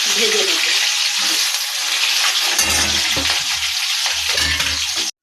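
Grated coconut frying in hot oil in a pan for a luchi and ghugni meal, giving a loud, steady sizzle throughout with a few low scraping stirs near the end.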